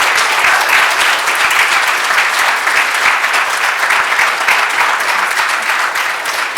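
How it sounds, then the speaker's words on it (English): Loud, dense applause fills a hall after student performers at a spring piano recital, a sustained wash of many hands clapping with no talk over it. "I want to ask you to give another round of applause to all of our performers"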